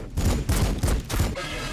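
Warhammer 40k Battlesector units fire a rapid, loud, close volley of booming shots, about five heavy reports in quick rhythm.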